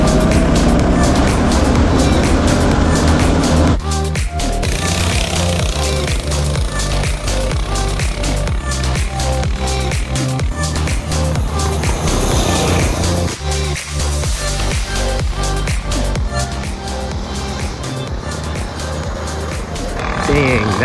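Vintage Murray go kart fitted with a Predator 224 engine, driving with a loud, continuous small-engine roar whose revs rise and dip, and people talking under the noise.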